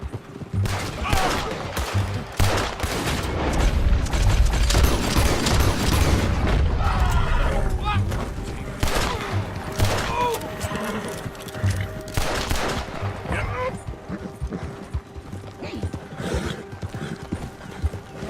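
Gunfire in Red Dead Redemption 2 comes as a loud, rapid run of sharp cracks, mixed with the clip-clop of horse hooves and an occasional whinny throughout.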